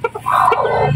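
A silkie chicken clucking nearby, with a few short clucks followed by a longer drawn-out call, loud and close with no talk over it.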